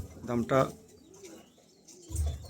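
Pigeons coo softly in a couple of low murmuring bursts, close by, with a pause of near quiet between them.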